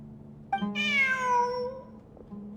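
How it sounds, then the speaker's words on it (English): A cat in Genshin Impact gives a single clear, drawn-out meow, close and loud against near silence, ending in a falling tail. "Look! A cat!"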